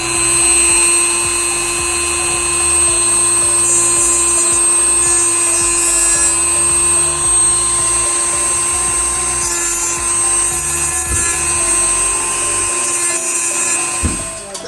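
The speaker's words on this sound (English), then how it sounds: "We'll go ahead and sand off the rest of this." A Dremel rotary tool sands a busted Mercedes S550 grill with a loud, steady, high-pitched whine that holds close and continuous throughout, with slight wavering as the bit bites into the surface.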